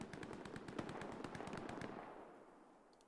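Rapid bursts of video game gunfire rattle in a tight, steady stream of sharp cracks, then fade out toward the end.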